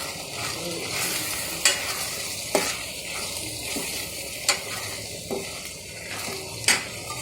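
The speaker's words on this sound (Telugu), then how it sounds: "కొబ్బరి తురుమేసుకొని ఇందులో వేసేసాను ఇది కూడా బాగా ఉడకనివ్వాలి" Prawn curry with grated coconut cooking in a pot, a low steady simmer and bubbling under repeated sharp scrapes and clinks of a spoon stirring against the metal pan.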